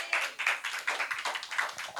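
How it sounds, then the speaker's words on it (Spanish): A church congregation applauding, a brief burst of close, rapid hand claps that rises and falls in uneven waves with no voices. "Denle un aplauso al Señor, porque usted y yo somos hijos de Dios"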